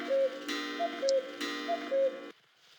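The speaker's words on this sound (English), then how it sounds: "Pendulum. Driven cuckoo clock." Steady ticking of a pendulum-driven cuckoo clock in the Harvester video game, a regular tick-tock beat heard alone with a soft hum and no voices, fading near the end.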